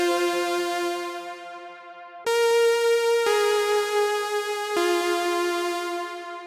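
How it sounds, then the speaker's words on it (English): A Roland Juno-6 synthesizer on its Space Harp preset plays a slow counter melody in a cinematic R&B style: a few bright, sustained harmonic notes that change pitch, heard clearly on their own. "arguably the Juno 6 sound, and I got this Space Harp preset right here."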